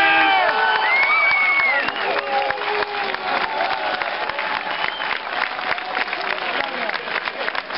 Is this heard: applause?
yes